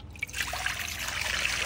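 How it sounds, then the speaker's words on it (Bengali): Water poured into a karahi pan holding three eggs for boiling, a short steady trickling stream running close and clear, with no voices. "পানি দিয়ে দিচ্ছি।"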